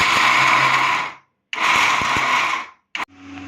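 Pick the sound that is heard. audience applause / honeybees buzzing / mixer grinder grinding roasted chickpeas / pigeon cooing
mixer grinder grinding roasted chickpeas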